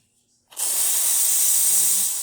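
A Rocket Giotto espresso machine's steam wand, just unclogged after a service, bursts into a loud, steady high hiss after a brief quiet moment and holds it without a break.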